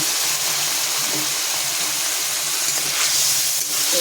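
A splash of water hits spices and ginger-green chili paste in a hot pan, giving a steady, loud steam hiss that lasts throughout without letting up.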